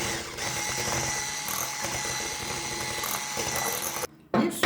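An electric mixer blending sunflower oil and yogurt at low speed for an orange revani batter, a continuous close mechanical whir with a rattling texture that cuts out briefly near the end.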